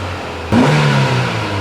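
A car engine of about 140 horsepower idles low, then sharply revs up and holds a strong mid-pitched roar before easing slightly, close and loud with no talking.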